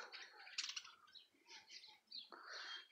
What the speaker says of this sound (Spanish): Hasta se escucha cómo cantan los pájaros de que llovió.